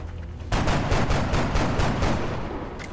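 A burst of gunfire in XCOM: Enemy Unknown starts abruptly after a quiet half-second, and a rapid run of loud, close shots is followed by a fading echo.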